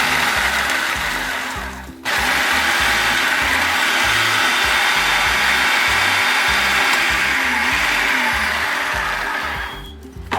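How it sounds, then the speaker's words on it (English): Food processor spinning loudly to crush a box of Ritz crackers, a steady high whirring motor run with a brief stop near two seconds and a taper at the end, no talking. "Quick little spin on the food processor should do it"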